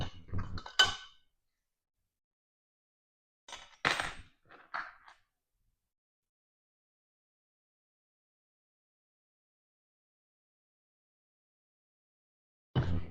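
An Allen wrench tightens screws on a Mow garment rack, giving a few short metallic clinks and clicks in separate bursts with long stretches of silence between them.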